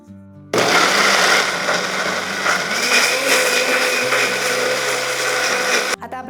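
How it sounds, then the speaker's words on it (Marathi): A blender grinds coconut milk ice cream base until fine, a loud steady whirring roar that starts after a short pause and runs nearly six seconds before cutting off, with no talk. "आता आपल्याला हे फाईन असं ग्राइंड करून घ्यायचंय."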